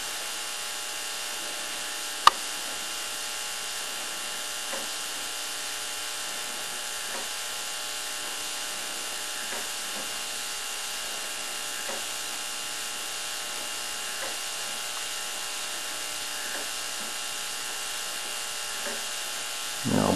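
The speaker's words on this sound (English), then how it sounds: "You can see the operation of the rotor as it's turning." A high-voltage Biefeld-Brown electrokinetic rotor turns with a steady electrical hiss and hum, faint regular ticks marking each rotation, a sharp snap early on and a thump at the end.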